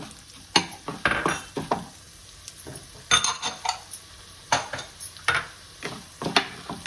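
Urad dal and coriander seeds frying in a pan, with a steady soft sizzle punctuated by repeated clinks and scrapes of a spoon stirring against the metal.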